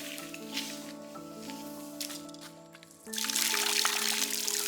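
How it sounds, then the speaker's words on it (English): Well water gushes from a faucet at a home in a Bahia fishing village, turning on partway through as a steady rushing pour that follows a quieter stretch with tonal hum. "So let's go ahead and turn on the faucet."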